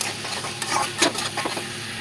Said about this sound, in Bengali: মশলা থেকে সুন্দর গন্ধ বেরোলে তার মধ্যে ভাজা আলু দিয়ে দেব।